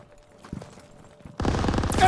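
Machine gun fire in the World War II shooter game Call of Duty: WWII, a couple of faint distant shots and then a sudden loud rapid burst of automatic fire.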